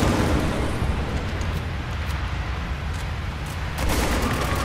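Dense, loud bursts of gunfire from the Spec Ops: The Line multiplayer game run continuously with no pause, with sharper shots rising near the end.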